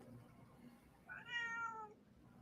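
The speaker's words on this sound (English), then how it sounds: "Oh, I hear your cat." A cat gives a single drawn-out meow, fairly faint and a little distant, against quiet room background.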